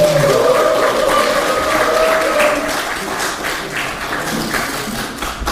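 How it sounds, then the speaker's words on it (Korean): A crowd at a People Power Party Gyeonggi Provincial Council policy meeting claps warmly, a loud, dense wash of applause that holds steady and then eases slightly toward the end. "다시 한번 뜨거운 박수 부탁드립니다."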